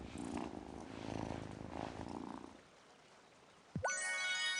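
A cat purrs while being petted in the farming game Wylde Flowers, a steady soft rumble under game music and voices, followed by a bright chime near the end.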